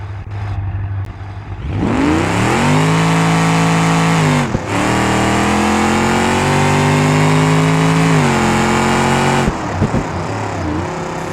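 A modernized drag car in BeamNG.drive launches for a straight-line test, its engine snarling loud and close as it revs up through several rising gear pulls, with brief drops at each shift.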